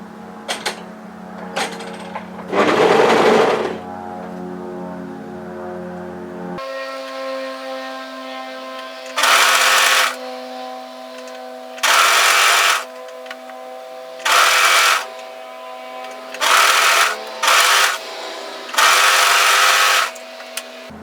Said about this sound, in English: we're going to sew the sleeve in the other side